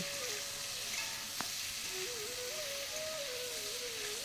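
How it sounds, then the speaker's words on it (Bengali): Boiled chana dal sautés with pumpkin and potato in a pan, giving a faint, even sizzle with one brief tap of a utensil; a soft tonal hum runs in the background. "ছোলার ডালগুলোকে দিয়ে একসাথে এবার ভালো করে কষিয়ে নেব"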